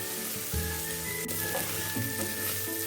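Onions sizzle steadily in oil in a pressure cooker, the base for a fish head curry with rohu head and mung dal, a constant close frying hiss with a few soft clinks and a low hum.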